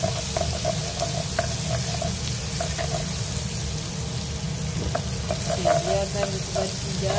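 Curry stirred while it fries in a pan gives a loud, close sizzle, with repeated spoon scrapes and clicks against the pan throughout.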